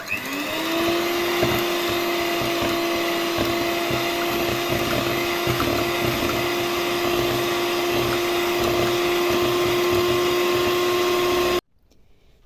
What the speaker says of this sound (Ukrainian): Якщо є сметана або слівки, і тепер збиваємо